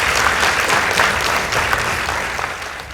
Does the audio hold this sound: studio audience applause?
yes